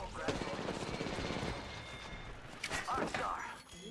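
Rapid automatic gunfire from an Apex Legends match, dense bursts of shots over a busy mix, with a player talking excitedly over the action.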